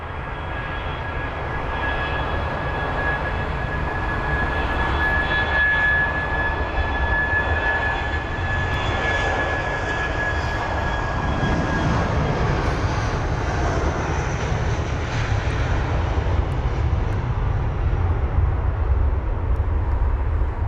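An Airbus A319 airliner at London Heathrow gives a loud, steady jet engine roar with a high whine on top, holding close and continuous without a break.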